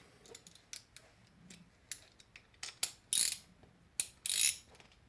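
Socket ratchet tightening a bolt on a Pedaling Innovations bicycle pedal, close, crisp clicking pawl sounds in irregular bursts, building to a few longer, louder ratcheting runs near the end.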